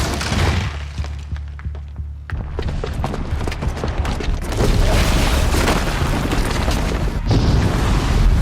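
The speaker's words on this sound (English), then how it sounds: "the booby trap on the bomb downstairs is gonna get set off" Bomb blast in Horizon Zero Dawn on PS5 during the Dervahl boss fight: a deep booming explosion with heavy low rumble, followed by sustained crashing, shattering debris and rolling thunder-like roar that stays loud to the end.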